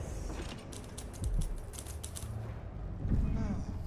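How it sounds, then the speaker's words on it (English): Typewriter keys clacking in rapid bursts in the game Dishonored 2, heard faintly from inside a nearby building alongside a speaking voice. "Sounds like someone on a typewriter."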